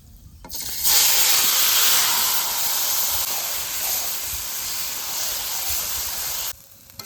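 Goat meat dropped into hot oil with cumin, bay leaf and whole garam masala, bursting into a loud, close, continuous hissing sizzle that settles slightly and then cuts off.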